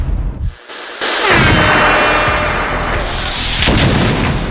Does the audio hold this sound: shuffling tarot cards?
no